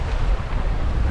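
Steady wind buffets the microphone aboard a sailboat making an offshore passage between the Azores and Madeira in 13 knots of breeze, full sails up, with sloshy sea and water rushing against the hull in a continuous, loud roar.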